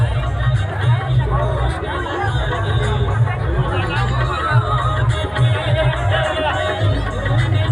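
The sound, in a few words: crowd gathered on street for procession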